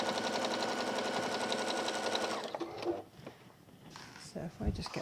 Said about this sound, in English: we're stitching along the top line of it